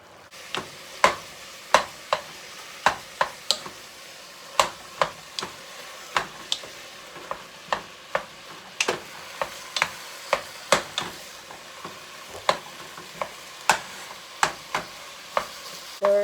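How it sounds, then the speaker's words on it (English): Ground meat with onions, salt and pepper stirred and frying in a pan for goulash, a steady sizzle punctuated by sharp, regular spatula clacks against the pan every second or so, close and clear, with no voices. "Stir the meat."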